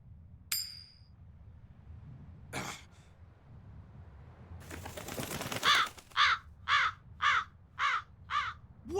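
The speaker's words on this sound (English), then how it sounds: "That crow just flew off with the coin!" Crow caws from the video game Tales of Berseria: a run of about six loud, evenly spaced harsh calls near the end, after a few scattered bursts and rustling noises.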